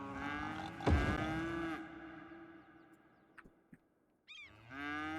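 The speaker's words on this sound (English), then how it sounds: "so let's go for some cows." A cow in the Cities Skylines video game lets out a long, loud moo that fades out, followed by a quieter stretch with a few small clicks and the start of another animal call, with no talking.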